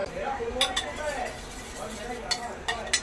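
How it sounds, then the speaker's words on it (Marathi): A spoon mixes curd in a bowl for raita, with light clinks and scrapes against the bowl and a voice talking over the stirring. "दही घेतलंय रायता बनवण्यासाठी, मिक्स करून घेते व्यवस्थित।"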